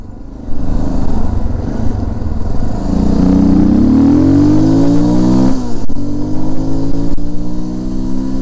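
A vehicle engine revs hard during a wheelie, loud and close, its pitch climbing steadily, then dropping off sharply with a couple of abrupt cuts before settling into a rough steady drone.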